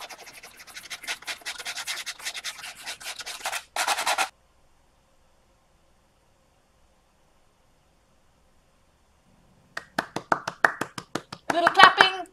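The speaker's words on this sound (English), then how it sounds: "I used 100 grit to smooth up the shapes, and then I sanded with 150 and 220" Rapid scratchy rubbing strokes of fine-grit sandpaper on wood, fairly close, stop after a few seconds; a long silence follows, then sharp clapping-like bursts.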